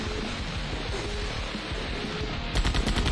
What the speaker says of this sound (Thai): นี่ก็ยิงฝั่งเดียวก็ได้ หรือยิงสองฝั่งพร้อมกันก็ได้นะ